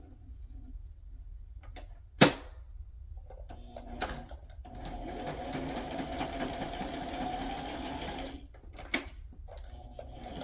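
Sewing machine stitching a paper journal tag, a close rattling mechanical run of stitches in the middle, bracketed by a sharp click and a few handling knocks amid quiet.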